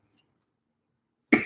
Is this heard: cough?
yes